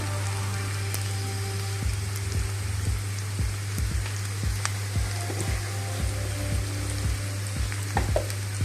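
Vermicelli upma with onions, salt and turmeric frying in a pan, a continuous sizzle under a low steady hum, punctuated by regular sharp clicks and scrapes of a spoon stirring against the pan.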